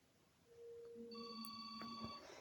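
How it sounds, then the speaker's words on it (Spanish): A mobile phone rings with an incoming call, giving a clear sequence of electronic tones and steady beeps. The ringing is close, fairly quiet and heard alone with no voices. "voy a llamar a mi celular"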